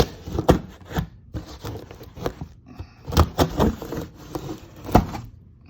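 A blade slices through packing tape on the box of an Aeron X racing wheel, giving a run of uneven scraping, tearing and rustling bursts with short pauses, close and fairly loud.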